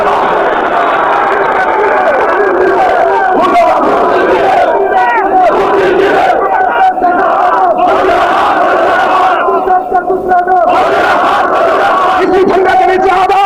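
A large crowd at a political rally chants slogans loudly and continuously, a dense roar of massed voices that never lets up.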